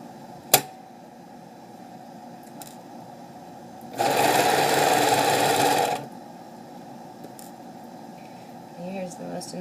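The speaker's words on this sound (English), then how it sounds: "Sew up the side." A sewing machine stitches a garment's side seam in one steady two-second burst of rapid whirring, preceded by a sharp tap and otherwise quiet room noise.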